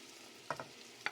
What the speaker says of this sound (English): I'm going to go ahead and put these in there at this time and start cooking everything together.